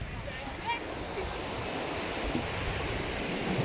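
Ocean waves wash onto the white sand at Diani Beach, Kenya, a steady broadband surf roar mixed with wind buffeting the microphone throughout.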